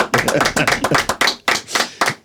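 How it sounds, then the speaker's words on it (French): An audience claps to welcome Dan, a musician guest on a Congolese talk show, in a short, uneven burst of hand claps that rises and falls in loose waves. "j'aimerais que vous applaudissiez bien comme il se doit"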